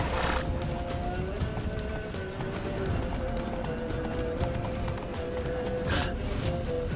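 Geralt's horse Roach galloping in The Witcher 3, hooves clip-clopping in a fast steady rhythm close by, with a sustained tonal whine and occasional louder bursts layered over the hoofbeats.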